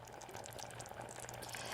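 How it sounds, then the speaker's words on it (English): Butter chicken curry sauce enriched with sour cream bubbles in a pot on the stove, a steady soft simmering hiss and bubbling that continues without break, close by and fairly quiet. "Now that it's boiling with the sour cream"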